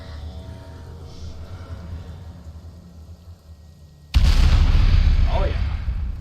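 Quiet ambience in Conan Exiles gives way to a sudden loud, booming explosion-like blast as a ritual structure at a base switches on, followed by a sustained heavy roar.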